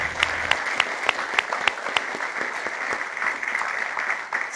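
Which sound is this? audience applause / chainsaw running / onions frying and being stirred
audience applause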